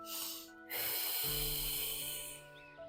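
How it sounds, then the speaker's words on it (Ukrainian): During an abdominal exercise, a short sharp inhale through the nose is followed by a long, steady, hissing exhale, close and quiet, no talk. "ми робимо короткий вдих носом і дуже довгий видих"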